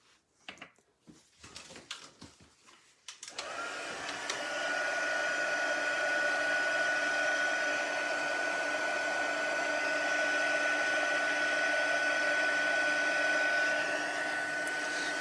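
A heat embossing tool blowing hot air over design paper, switching on after a few seconds of handling noise and then holding a loud steady whirring drone, with no talking.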